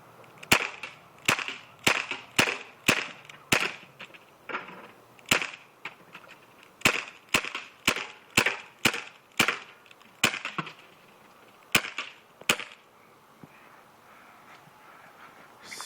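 A Daisy Powerline 15XT CO2 BB pistol fires a long string of sharp, close snapping shots at uneven intervals, some in quick bursts and others spaced apart, before it falls quiet.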